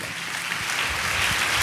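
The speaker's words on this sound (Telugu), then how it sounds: "నీవు చప్పట్లు కొట్టి ప్రభుని స్తుతించండి" A church congregation claps in praise during a Telugu sermon, a dense, steady wash of many hands that fills the room and swells slightly toward the end, with no voices on top.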